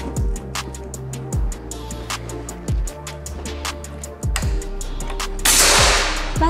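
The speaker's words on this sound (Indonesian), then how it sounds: "Tembakan yang ke-10." A Gousuto Oria V2 air rifle fires a series of sharp, close cracks at roughly one-second intervals, each a loud snap with a brief ring, followed by a hissing rush near the end.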